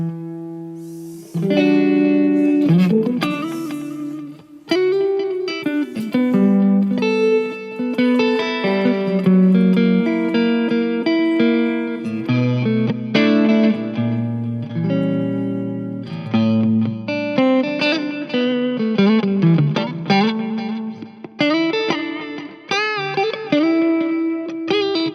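A Harley Benton electric guitar on its neck pickup with a clean tone plays a series of melodic notes and chords, up close and alone, each note ringing with clear harmonics before the next.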